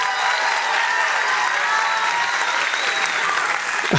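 Dense, steady applause from a festival audience for student performers at a winter music festival concert, loud and continuous throughout with no speech over it.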